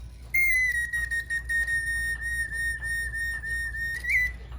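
Mechanical bird whistle driven by an air valve and bellows, a single sustained bright whistle with a crisp start and stop, slightly wavering and rising briefly near the end, over a low steady hum.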